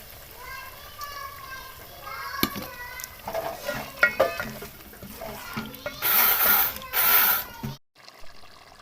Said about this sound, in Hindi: अब इसके अंदर मैं 4 टेबलस्पून दही के ऐड कर देती हूँ।